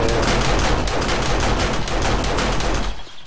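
Rapid automatic gunfire from a first-person survival shooter, 7 Days to Die, rattles loudly and continuously for about three seconds before cutting off abruptly.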